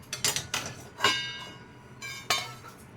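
Roasted food scraped from a metal kadhai onto a plate, with a handful of sharp metallic clinks and scrapes in an irregular rhythm, close and fairly clear with no talking.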